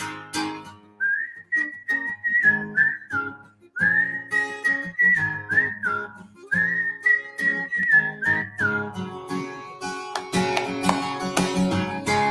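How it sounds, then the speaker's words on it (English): Several people whistle a bright, tuneful melody in repeated phrases during a casual home country music jam, with a brief pause near the middle and some instruments entering toward the end. "Should we whistle for them?"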